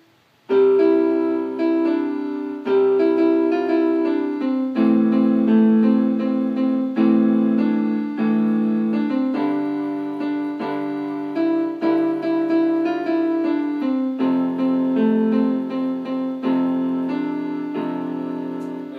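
Solo piano plays the melody of a worship song, a steady, sustained line over chords in a moderate tempo, close and clear for the whole stretch with no talking.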